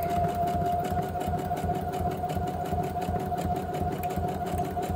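Home sewing machine running steadily through a zigzag stitch on fabric, a continuous close whirring hum with a fast, even mechanical rhythm throughout, no talking.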